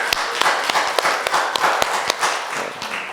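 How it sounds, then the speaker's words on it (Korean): A congregation at a New Year's Day Sunday service in a Korean Baptist church in New York claps together, producing a brief, fairly close burst of uneven clapping. "하나님께 한번 영광의 박수 올려드리길 바랍니다"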